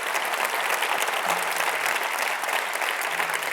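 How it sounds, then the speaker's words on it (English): An audience applauds campaign contributors at a college fundraising event, with continuous, full clapping sustained at an even level and a faint voice briefly underneath. "So a round of applause to everybody who's already contributed."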